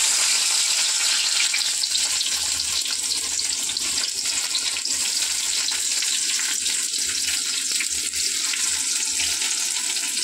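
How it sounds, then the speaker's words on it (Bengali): Whole spices and two dried chillies crackle and sizzle in hot oil for tempering dal, a steady bright hiss close by with small pops, no talk. "ফোড়নে দিয়ে দেবো। তেল গরম হয়ে গেছে"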